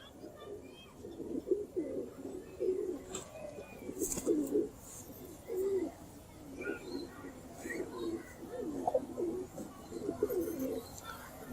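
Pet pigeons coo in soft, repeated throaty bursts nearby, with faint chirps mixed in and someone talking intermittently.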